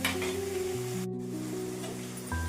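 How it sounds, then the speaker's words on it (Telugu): Okra slices frying in a pan hiss with a continuous sizzle while being stirred. A low hum runs underneath, and the sizzle drops out for a moment near the middle before resuming. "మధ్య మధ్యలో కలుపుతూ ఫ్రై చేసుకుంటున్నాము"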